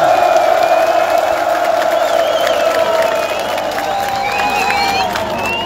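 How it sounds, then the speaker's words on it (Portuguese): A large street crowd at a political march in Nhamapaza, Mozambique, claps and cheers loudly and continuously, with whoops and shrill whistles rising above the dense roar. "Uma grande salva de palmas!"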